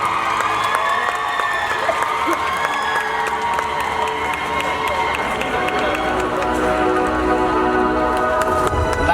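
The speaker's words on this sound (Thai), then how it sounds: "ขอเสียงปรบมือต้อนรับคุณอาติภาคงคาไล" A packed crowd claps and cheers to welcome a sponsor at the Miss Grand Thailand 2025 preliminary, making a loud, continuous roar of applause over steady background music that runs for the whole stretch.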